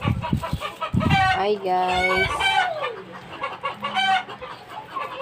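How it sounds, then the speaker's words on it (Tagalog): Several chickens cluck and squawk loudly nearby, with a rooster-like crow rising in the middle; a person speaks briefly at the start. "Ang ingay ng manok."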